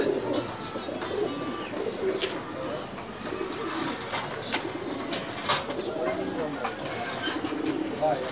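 Pigeons coo in a loft, soft repeated calls with occasional wing flaps and chirps over a steady busy background, while a person talks nearby.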